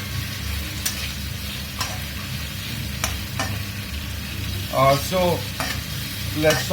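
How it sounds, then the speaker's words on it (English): Onions frying in a pan for Mangalorean pork curry give off a steady close sizzle, with occasional scrapes of a spoon and a brief burst of clattering stirs near the end. "While the onion fry on, make sure you give it a good fry"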